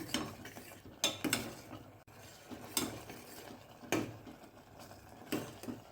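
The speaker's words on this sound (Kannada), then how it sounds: "ಇವಾಗ ಕರಿಬೇವಿನ ಸೊಪ್ಪನ್ನ ಹಾಕಿದ್ದೀನಿ ನಾನು" Fresh curry leaves go into a boiling pot of traditional mango curry, with faint kitchen clatter of a spoon stirring and scraping against the vessel in irregular taps and clinks, quiet and close.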